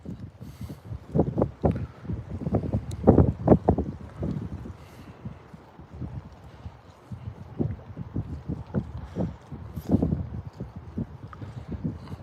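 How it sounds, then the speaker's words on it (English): Strong gusting wind on the shore of Copano Bay, Texas, buffeting the microphone in loud irregular rumbling bursts that rise and fall throughout. "I know it's pretty windy."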